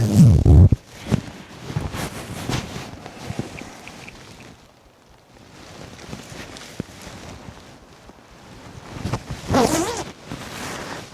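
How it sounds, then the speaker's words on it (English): A Patagonia Nano-Air Hoodie, a lightweight insulated jacket, is zipped up, with fabric rustling and scraping zipper movements spread across several seconds at close range, no one speaking. "let's zip it all the way up"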